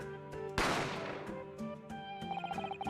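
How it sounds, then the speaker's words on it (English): A single sharp gunshot cracks out in a quiet room and rings away slowly. Faint clinks of crockery and cutlery can be heard before and after it. "A gunshot rang out"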